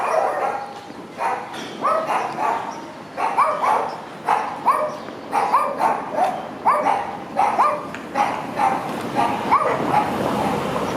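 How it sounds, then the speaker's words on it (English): Guard dogs bark repeatedly in a back alley of Mazatlán, a string of sharp, fairly close yips and bow-wows in quick irregular bursts, with faint street ambience behind. "Guard dogs."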